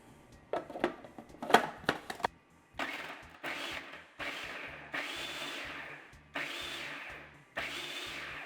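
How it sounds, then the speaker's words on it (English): A food processor pulses butter into a flour mixture for a strawberry cobbler topping, a few short clicks first, then five loud, even whirring bursts with brief pauses between them, heard alone without talk. "Now we're going to pulse everything together again just until the butter is nicely cut into the flour mixture"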